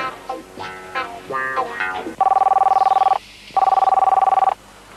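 Telephone ringing in a Finnish comedy film: two loud, buzzing electronic rings with a brief gap between them, after some short vocal sounds.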